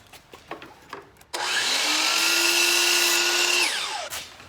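A circular saw spins up and cuts through wood for a garage shelf support, a loud steady whine for about two seconds before winding down, preceded by a few light taps.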